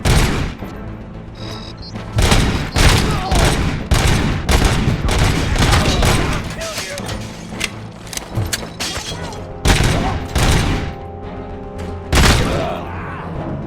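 Rapid bursts of gunfire in the video game RoboCop: Rogue City, loud and close, with heavy booming shots and thuds arriving in dense clusters separated by brief pauses.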